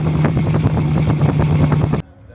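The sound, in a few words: exhaust note of a 1934 Duesenberg Model J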